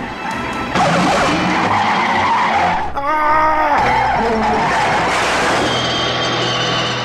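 A car braking hard, its tires skidding and squealing in a long, loud screech midway through, set against continuous engine and road noise.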